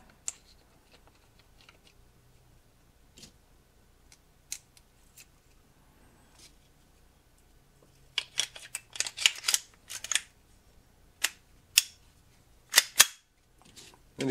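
Smith & Wesson M&P 22 pistol being reassembled: sparse metallic clicks at first, then a dense run of sharp snaps and clacks of parts sliding and locking together, close and crisp.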